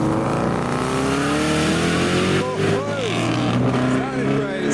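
A Ford Escort Cosworth rolls into a car show, its engine a loud, close, steady drone that wavers slightly in pitch as it passes.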